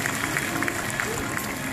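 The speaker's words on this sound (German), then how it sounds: "Ein Applaus für Miss Lee." Applause from the audience at an open-air Karl May festival show in Bad Segeberg, a brief, steady patter of clapping heard from a distance and fairly quiet.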